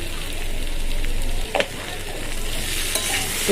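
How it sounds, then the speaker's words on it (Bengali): Spices sizzle and sauté in a pan, with salt, turmeric, chilli powder and cumin powder stirred in. There is a steady frying hiss and a few sharp scrapes and clinks of the spoon close up. "পরিমাণ মতন লবণ হলুদ গুঁড়ো লঙ্কার গুঁড়ো আর জিরের গুঁড়ো"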